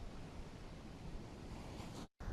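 Choppy ocean surf rolling onto North Topsail Beach as Hurricane Erin passes offshore, a steady roar of breaking waves with wind rumble, briefly cutting out near the end.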